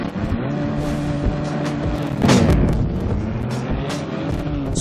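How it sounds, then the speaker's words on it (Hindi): A Toyota Supra's engine starts and runs in the racing video game Car Zone, a loud steady engine drone with a brief surge of revving near the middle. "तो गाइस स्टार्ट करते हैं गाड़ी को।"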